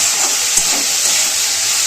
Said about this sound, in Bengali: ব্যাস নেড়ে ছেড়ে এটাকে একটুখানি ভেজে নেব।